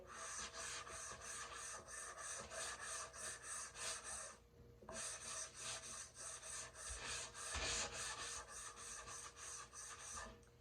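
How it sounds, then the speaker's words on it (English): Light sanding of a finished, top-coated painted surface produces a steady run of rhythmic, close rasping strokes, briefly pausing once before resuming at an even pace. "I like to sand lightly because it makes it feel soft and smooth."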